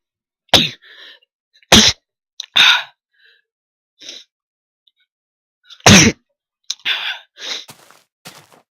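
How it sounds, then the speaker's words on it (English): Two loud, close sneezes with sharp explosive bursts, each followed by breathy gasps and exhalations, heard during a Minecraft redstone session with no speech over them. "I'm gonna sneeze."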